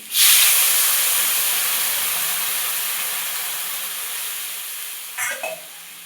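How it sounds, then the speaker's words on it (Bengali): Water poured into a hot pan of fried rohu fish for a Bengali curry: a sharp loud hiss bursts out, then slowly fades as steam settles, with a brief clatter near the end. "এবার আমি জল ঢেলে দেবো"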